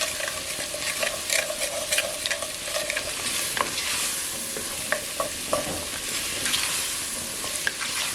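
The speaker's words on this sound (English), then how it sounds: "Give that a stir, and we're going to cook this for about 5 minutes until those vegetables start to soften" Chopped vegetables sizzle steadily in melted salted butter in a pot while being stirred, with scattered spoon scrapes and clicks over a continuous close frying hiss, no voices.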